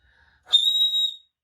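A single clear, steady whistle imitating a bird, lasting under a second, bright and high-pitched, preceded by a faint breathy onset, then silence.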